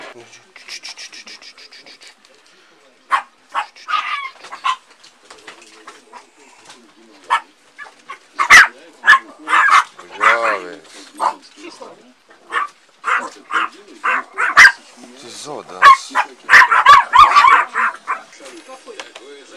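Many dogs bark together in a kennel, a dense burst of sharp, overlapping barks and yips that builds to a loud, near chorus, with people talking between and under the barking.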